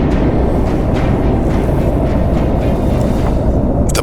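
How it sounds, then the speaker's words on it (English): Blustering wind and a roaring waterfall on a treacherous final climb, a loud, steady rush of broadband noise with heavy wind buffeting the microphone throughout. "The blustering wind and moisture coming from the waterfall made this final climb very treacherous and scary"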